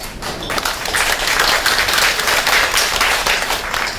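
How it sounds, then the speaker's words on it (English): Audience clapping at a Belt and Road lunch talk for speaker Regina Ip, a steady round of applause that swells after a quieter start and holds loud for several seconds. "I kindly ask you the big applause for Regina."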